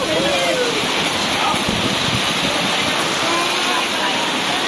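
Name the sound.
heavy rain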